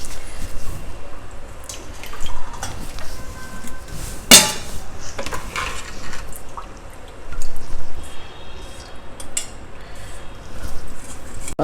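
Washed methi leaves drain in a kitchen, with water trickling and dripping while a sharp knock or clatter sounds near the middle. Bursts of pouring and splashing rise and fall throughout.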